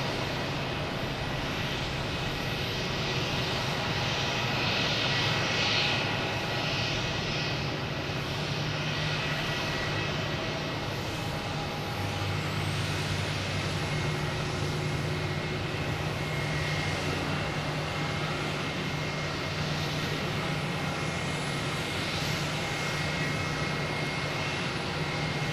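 Porter airliner departing Boston Logan for Ottawa, a steady moderate jet engine rumble with faint tonal whine, continuous and fairly distant for the whole stretch.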